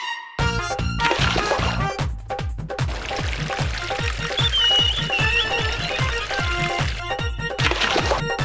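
Water splashes and pours repeatedly while someone is bathed, a rhythmic series of close, loud sloshing pours with dripping between them and no talk.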